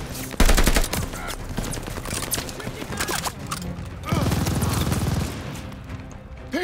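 Machine gun fire in Call of Duty Vanguard gameplay, a sustained loud burst of rapid shots with booming impacts, alongside shouted soldier voices over continuous battle noise.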